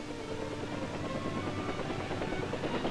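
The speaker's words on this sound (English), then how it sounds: "Helicopters of the U.S. Army 13th Aviation Battalion provide direct air support" Steady broadband rotor roar of U.S. Army 13th Aviation Battalion helicopters in flight over Vietnam in 1966, constant and fairly loud throughout the short stretch, no speech.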